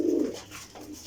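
A pigeon coos once close by, a soft low throaty call at the start, then quiet room noise with faint bird sounds, at a pigeon breeder's loft in Jhelum.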